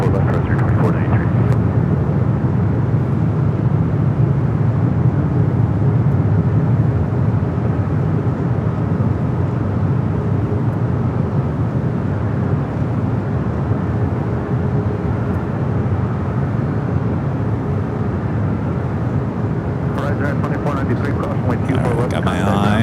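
An airliner's engine roar at Los Angeles LAX airport is heard steadily at a distance, a broad low drone holding for the whole stretch.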